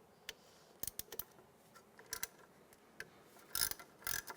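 Socket ratchet clicking as it loosens the ABS sensor bolt on a 2004-2009 Toyota Prius during a wheel bearing job, with short quiet bursts of rapid ratcheting clicks and small metallic clanks close by.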